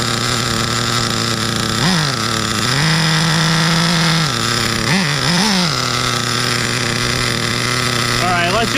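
A Redcat Earthquake 3.5 RC truck's nitro engine runs loud and close, with a steady buzzing drone that rises and falls in short revving bursts.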